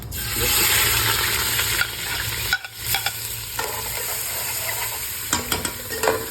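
Rohu fish pieces fry in hot oil with a steady, loud sizzle. Occasional scraping and stirring clicks cut through it, and no one speaks.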